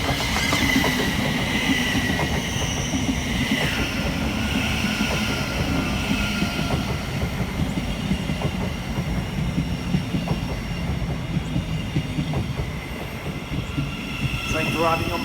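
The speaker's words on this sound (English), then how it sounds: "Train arriving on platform 1 is your 1617 service to Horsham." A passenger train pulls into a platform at Stevenage station with steady rumbling, wheel and rail noise and faint squeals, loud and continuous throughout, with a station announcement partly audible beneath.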